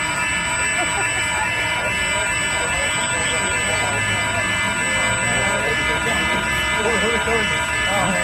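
Many stolen Apple store phones lie on the ground with their alarms going off, a loud continuous high-pitched electronic tone layered under nearby talking.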